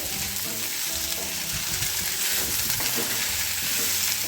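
Ivy gourd palya fries in a pan with a constant loud sizzle and scattered scraping and stirring sounds close by throughout.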